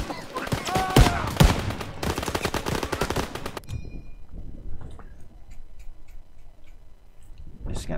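Rapid machine-gun bursts and scattered gunshots in the Call of Duty WWII video game, loud and dense for the first few seconds, then giving way to quieter ambience with faint distant pops and a rising burst at the end.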